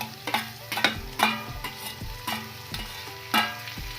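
Potatoes with ginger, garlic and spices frying in a hot pan, giving a steady sizzle broken by repeated scraping stirs of a spatula at an uneven rhythm.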